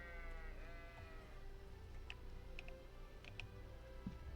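A sheep bleats once in the video game Kingdom Come Deliverance, a wavering cry at the start, followed by quiet ambient ticks and faint clicks.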